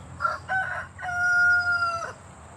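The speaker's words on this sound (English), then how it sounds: "I've never seen a cock-a-doodle-doo cut off mid-cock-a-doodle-doo like that." A rooster crows close by, a short rising start and then a long sustained call that stops abruptly before the crow finishes, over faint background hum and no speech.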